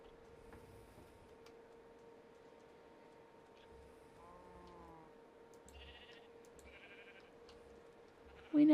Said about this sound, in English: We now have sheep.